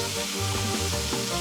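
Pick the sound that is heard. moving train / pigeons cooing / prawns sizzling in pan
prawns sizzling in pan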